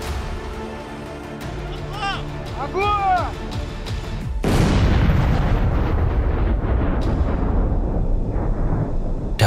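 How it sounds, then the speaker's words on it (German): Controlled detonation of a found explosive device at a remote site, a single loud blast followed by a long rumbling roar that fades slowly, preceded by faint background noise. "die ihn anschließend in einem abgelegenen Gelände kontrolliert gesprengt haben"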